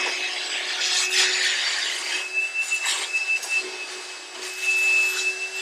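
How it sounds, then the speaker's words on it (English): A vacuum cleaner runs steadily while cleaning the windshield area of a Tesla Model Y during a windshield replacement, with a constant whine and some rougher bursts of suction. "Just vacuum up the top, please."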